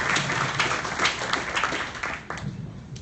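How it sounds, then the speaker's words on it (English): Scattered clapping from a meetup audience at NVIDIA for a VR presentation, loose and uneven hand claps across a few seconds, moderately loud with room ambience. "Let's give them a warm round of applause to Emerge."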